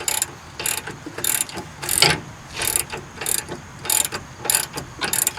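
Ratchet wrench tightening an 18 mm nut on a sway bar link of a 2010-2013 Nissan Rogue, driver's side: rapid bursts of clicking pawl strokes repeating in a steady rhythm, close and fairly loud, with no talking.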